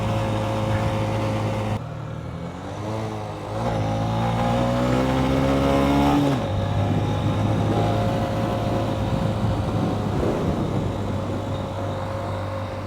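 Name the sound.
Honda CB125F motorcycle with 120cc fuel injector accelerating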